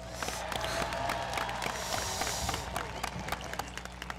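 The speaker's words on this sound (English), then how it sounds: "Can we give them one more round of applause?" Graduation-ceremony crowd applauding for the Madrigals choir at a high school, a dense steady patter of many hands across the whole stretch, with some cheering mixed in at moderate distance.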